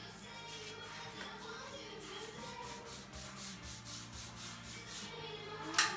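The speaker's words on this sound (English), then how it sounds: "So I'm actually getting my brush, or my towel, and wiping with what's on here" A towel rubs a blend of paint and rust across a wooden buffet, making soft, steady, rhythmic wiping strokes that stay close and quiet, with a brief sharper scrape at the very end.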